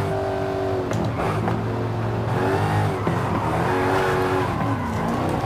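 A Dodge Challenger SRT Demon, high-horsepower and rear-drive, drifts in the Forza racing game, its engine droning and revving under a steady roar with tyre scrub, loud and continuous throughout.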